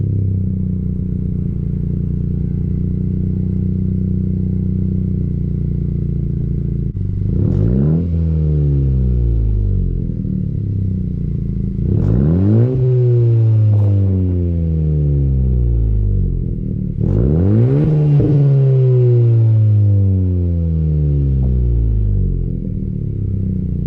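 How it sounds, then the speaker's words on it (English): 10th-gen Honda Civic Si fitted with a MAPerformance race exhaust and front pipe, starting up and settling into a loud, steady idle, then three separate revs, each climbing sharply and falling back down, recorded close by with no talking. "let you hear the startup, some exhaust notes,"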